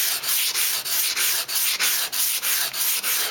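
A kitchen knife being sharpened on sandpaper, in regular back-and-forth strokes of loud, gritty scraping, about ten passes evenly spaced, close up and alone.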